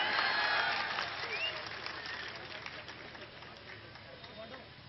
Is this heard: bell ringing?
no